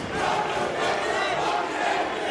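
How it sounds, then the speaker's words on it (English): A large wrestling arena crowd roars and cheers continuously at a Ring of Honor match, loud, dense and sustained, with no clear breaks. "this crowd has come to life here tonight with Bryan Danielson in the ring."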